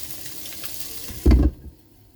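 Cordyceps flowers toasting in a covered pan give a steady soft sizzle, close up, broken by a short louder clatter or stir before the frying fades to near quiet.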